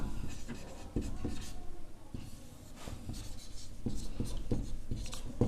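Pen scratching across paper while a maths solution on a hemispherical bowl's thickness and radius is written out, a steady close rubbing with short stroke-like bursts and small taps, no voice.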